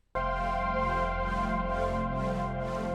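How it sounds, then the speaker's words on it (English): A Prophet 6 synthesizer stem from an album track: a sustained, harmonically rich chord that starts abruptly and holds steady and loud, with a slow rhythmic sweep pulsing through its upper partials, heard alone with no voices. "that's the Prophet 6 too."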